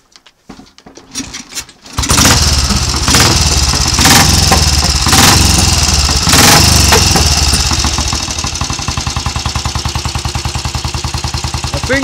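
A Royal Enfield 350 cafe racer motorcycle is kicked over with a few sharp bursts, then catches and runs loud and close, settling into a steady thumping single-cylinder idle.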